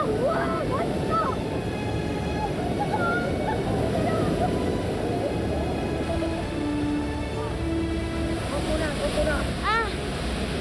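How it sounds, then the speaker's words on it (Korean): Kawasan Falls in Cebu pours into its pool with a steady, broad rush of falling water, loud and continuous from start to finish, with faint voices in the background. "시원하게 떨어지는 물줄기가 너무 멋집니다"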